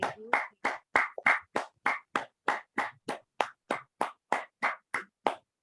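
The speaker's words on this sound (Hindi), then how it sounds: "जोरदार ताली बजाकर इस दिव्य ऊर्जा को पूरे ब्रह्मांड में हम प्रसारित कर देंगे" A group claps together at the end of a meditation session, sixteen or so loud, evenly spaced claps in a steady rhythm, close and with nothing else behind them.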